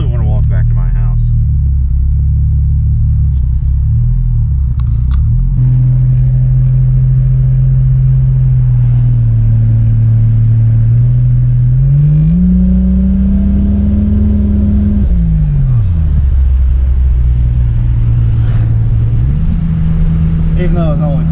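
Mk3 Toyota Supra engine on low turbo boost, a loud, deep rumbling drone that holds, then surges upward in pitch and drops away, revving near the listener with voices heard over it.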